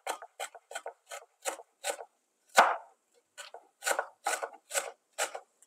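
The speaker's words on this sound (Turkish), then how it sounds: "Ufak ufak da doğrayacağım." A knife finely chopping fresh parsley and dill on a cutting board gives a steady run of about a dozen crisp, close cuts with brief gaps between them. One cut sounds heavier and fuller than the rest. No one speaks.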